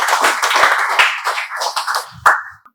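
Students in a spoken English class clap together, a dense, loud burst of hand claps that thins out and stops near the end, with one last clap.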